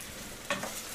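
Cider poured into a hot pan of chicken for Poulet Vallée d'Auge, giving a brief burst of sizzle over a steady background frying hiss, close and fairly quiet.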